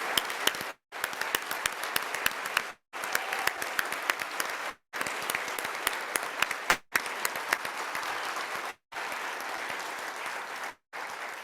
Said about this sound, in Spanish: Justo para Eduardo quiero pedirles un aplauso, por favor